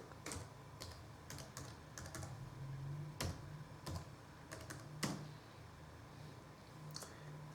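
A computer keyboard is typed on quietly and close by while a password is entered to set up a 433+300 Mbps Wi-Fi repeater, the keystrokes coming in irregular soft bursts over a faint steady hum.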